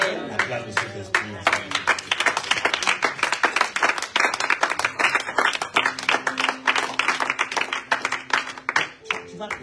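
A church congregation claps and cheers, with dense rhythmic hand claps running throughout, voices calling out over them, and a sustained tone in the background.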